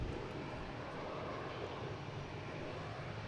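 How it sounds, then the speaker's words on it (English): A JetBlue airliner approaching to land at Boston Logan, heard as a continuous, fairly faint broadband rumble of jet engines with no voices. "we got a JetBlue coming in"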